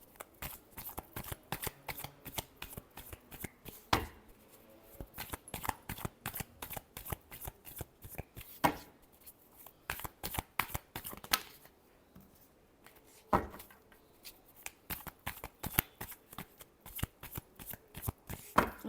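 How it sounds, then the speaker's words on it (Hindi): Tarot cards shuffled by hand in dense, rapid riffling bursts with brief pauses between, close and crisp, with no voices. "Last shuffle."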